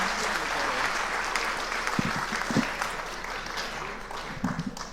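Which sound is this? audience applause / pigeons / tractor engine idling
audience applause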